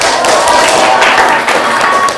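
A room full of people claps together in a dense, steady burst of applause with a little crowd noise mixed in.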